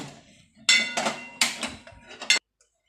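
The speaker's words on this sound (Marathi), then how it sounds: "हे पहा, हे माझा चपातीचा तवा आहे।" A metal chapati tawa is handled before making uttapam, giving a short cluster of close clanks and knocks against the cooktop, then silence.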